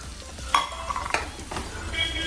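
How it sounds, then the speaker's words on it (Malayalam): Chopped onion sautés in a pan, a soft steady sizzle broken by a few sharp scrapes and clinks of a stirring utensil against the pan. "ഒരു ഓണിയൻ ഇട്ട് കൊടുത്തിട്ടുണ്ട്. അപ്പോൾ അത് നന്നായിട്ട് ഒന്ന് 1 മിനിറ്റോളം നമ്മളത് വഴറ്റി കൊടുക്കാം."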